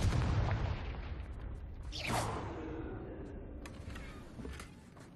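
A Confringo fire spell bursts in Hogwarts Legacy on Switch 2, opening on a low rumbling boom and followed by a rising whoosh that trails off into a long, fading crackle of debris.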